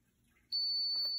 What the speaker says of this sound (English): Once it beeps, I release.